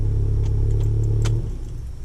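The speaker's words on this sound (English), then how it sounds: "turn the ignition off," A VW Golf R Mk7 with its ignition being switched off: a steady low engine hum cuts out after about a second and a half, with faint clicks and key jingles, close by.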